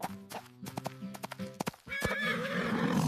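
A horse's hooves clip-clop in a quick uneven series of close knocks, then the horse breaks into a loud, rising and wavering neigh that carries to the end.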